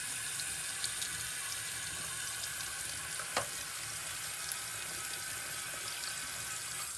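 Water is poured over the soil of a potted ligustrum bonsai, running and trickling steadily as it soaks through and drains out, with a continuous splashing hiss and no talking.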